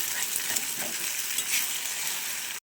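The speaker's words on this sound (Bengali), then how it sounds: "ডিমটাকে ভেজে নেব। ডিমটা এরকম ভেজে নিতে হবে।" Egg frying in plenty of oil with a pinch of salt, a steady close crackling sizzle with small pops, running without pause for under three seconds and then cutting off.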